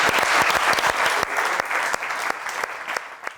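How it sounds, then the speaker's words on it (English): Sustained applause from a live audience at a football fan debate show: dense, steady clapping throughout that thins slightly toward the end, with no voices over it. "A round of applause for these guys."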